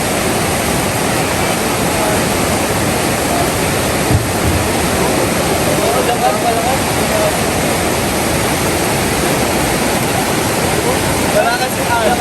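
A river with a strong current rushes past at a slippery, mossy swimming spot, producing a loud, constant roar of turbulent water with no breaks.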